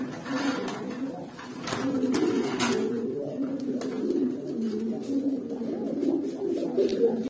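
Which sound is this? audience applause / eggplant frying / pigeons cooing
pigeons cooing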